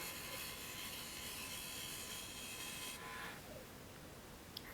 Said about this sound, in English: Here I am using my skew chisel again to create a line, and then using more of the flat part of the chisel to create a bit of a bevel